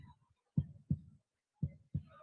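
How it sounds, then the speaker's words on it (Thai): A heartbeat sound effect plays during a pageant winner announcement, giving four distinct, evenly spaced low thumps in near silence. "มีเสียงหัวใจเต้นตึกตักด้วยว่ะ"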